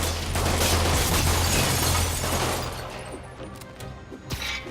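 Thugs shooting in the video game Marvel's Spider-Man, a loud burst of rapid gunfire and booming impacts that fades after a couple of seconds into quieter mechanical clatter and a few sharp cracks.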